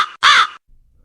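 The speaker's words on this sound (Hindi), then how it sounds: "अरे तो कौवे की कांव कांव आवाज कहां से आ रही है भैया?" A cartoon crow lets out a short clipped caw, then a louder, harsher, longer caw up close, followed by near silence.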